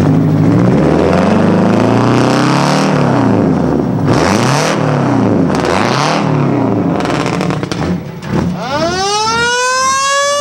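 A loud engine in a homemade, cobbled-together car roars and revs in rising and falling sweeps, then an old mechanical siren winds up sharply near the end.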